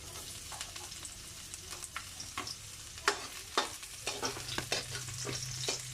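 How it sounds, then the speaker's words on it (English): Ginger and garlic sizzle in a pan for sauteed unripe papaya with coconut milk, a soft frying hiss broken by several sharp spatula scrapes and stirring clicks, with no talking. "Now I'm going to put our garlic guys."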